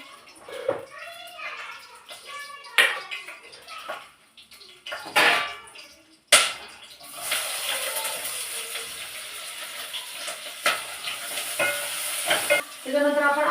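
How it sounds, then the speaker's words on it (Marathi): Onion and tomato tipped into a hot pan for egg biryani: a few clinks and scrapes, then a sudden loud burst of sizzling that settles into steady frying with occasional spatula stirs. "आता मी डायरेक्ट कांदा टॅमॅटो टाकून घेते"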